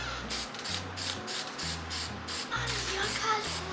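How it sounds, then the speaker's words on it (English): Spray paint hisses in short repeated bursts onto a wooden Pinewood Derby car, with a low rhythmic hum running underneath. "The good thing about wood is it absorbs the paint as you spray it"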